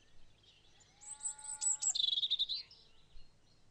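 A bird calls once in a village forest, a short bright whistled phrase with rapid chirping notes, fairly faint and close, over a quiet background.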